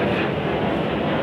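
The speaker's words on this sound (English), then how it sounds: "Oh my god, these planes!" Airplanes in the video game Minecraft fly overhead with a loud, steady, broadband roaring drone that fills the whole moment without a break.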